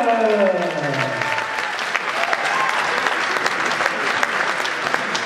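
A crowd applauds steadily after a knockout win at a fight event, a dense wash of clapping that carries on throughout, with a brief fading tone at the start.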